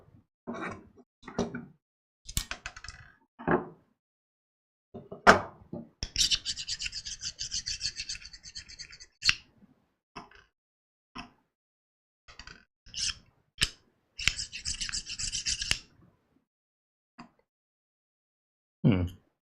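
Small screws being driven into a KUBB Essentiel mini PC with a magnetic screwdriver, heard as short bursts of scraping, rasping turns separated by pauses, close up and with no talk.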